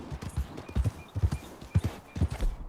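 Horse hooves clip-clop in a steady galloping rhythm in the video game Red Dead Redemption 2, close and clear, with a faint whinny-like tone above and no talking, as the horse runs out of stamina.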